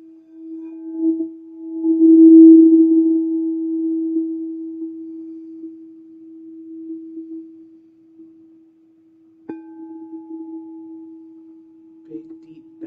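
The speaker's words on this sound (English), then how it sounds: "allow the sound of this bowl to bring you into that space" A singing bowl rings with a steady, pure tone that swells and slowly fades. A second soft strike near the end renews the ring. The sound is calm and close, with no talk over it.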